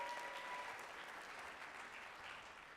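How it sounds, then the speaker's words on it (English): An audience applauds at a high school spring vocal concert, a steady wash of many hands clapping that sounds distant and faint and fades slightly toward the end. "Special round of applause to Alex."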